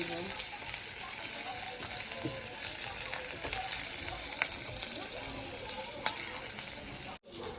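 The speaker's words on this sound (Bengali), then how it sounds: "এখন আমি দিয়ে দিচ্ছি পেঁয়াজ কুচি" Chopped onions hitting hot oil in a kadai for a shrimp-shutki and lota curry, a close, steady sizzle and crackle with small spatters that breaks off sharply near the end.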